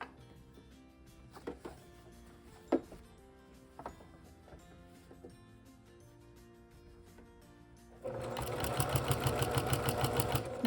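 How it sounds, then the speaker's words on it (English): A sewing machine stitching fabric for a quilted car seat poncho: scattered soft handling clicks, then a loud close burst of fast, even stitching. "So just manipulate the fabric to be able to sew in a straight line."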